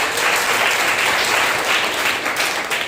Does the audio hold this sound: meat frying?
no